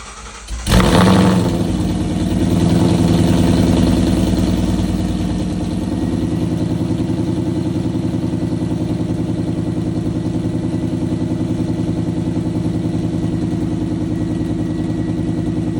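A Ford Mustang GT V8 engine with a loud aftermarket exhaust cranks and roars to life with a loud rev, then settles into a deep, steady burbling idle.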